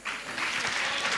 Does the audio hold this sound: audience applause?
yes